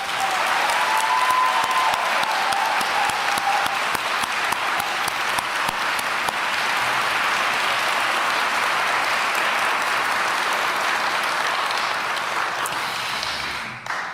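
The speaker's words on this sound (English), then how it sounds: "let's give him a well-deserved round of applause" Sustained audience applause follows a tribute during a San Antonio mayor's farewell address, with a large room of people clapping steadily and loudly for over ten seconds and a brief cheer early on.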